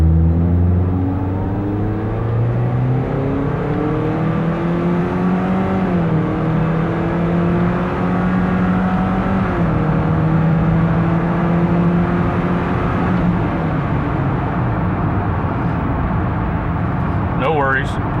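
A 2004 Ford Ranger pickup with the 2.3-liter four-cylinder and over 250,000 miles revs hard at wide open throttle, its engine note climbing steadily and loud throughout with a brief shift dip, while someone talks over it.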